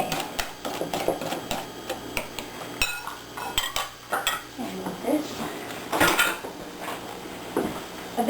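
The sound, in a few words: whisking pineapple bread pudding mixture in a bowl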